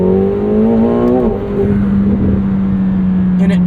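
A 2025 McLaren 750S with a 740 hp twin-turbo V8 accelerates hard, its engine note rising steadily, easing briefly, then holding a loud close drone.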